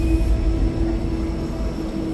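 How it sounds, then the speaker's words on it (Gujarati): A three-car train sits at a station, giving a loud steady rumble with a sustained mechanical hum throughout; no voices. "આ જે હતી ને એ ટ્રેન છે ને મેં તમને થોડાક દી પહેલાં કીધું હતું એ નીચે જવાવાળી હતી"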